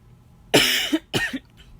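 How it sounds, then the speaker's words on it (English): Two harsh, dry coughs in quick succession, close and fairly loud, with a short gap between them. "I'm still coughing and stuff"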